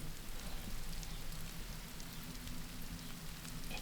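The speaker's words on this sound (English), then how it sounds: "Fizzing." Water poured into a home fish tank fizzes and crackles over the rocks, a steady dense hiss like rain that holds evenly for a few seconds at low volume.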